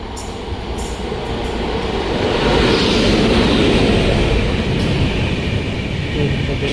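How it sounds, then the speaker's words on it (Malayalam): A train rolls through Poonkunnam railway station near Thrissur without stopping, a loud, steady rumble of wheels and carriages that swells after a couple of seconds and keeps going close by with no pause. "വേറൊരു ട്രെയിനും കൂടി വരുന്നുണ്ട്. അതിൻ്റെ എൻജിനും വെള്ള കളറാണ്."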